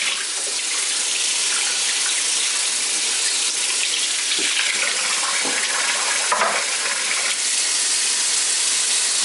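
Collard greens rinsed under a running kitchen tap, a steady, loud hiss of flowing water with brief splashing shifts as the leaves move through the stream, no talk.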